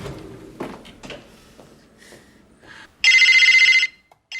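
A telephone rings with one loud, close electronic trill burst of under a second, after some soft rustling and knocks and followed by brief quiet.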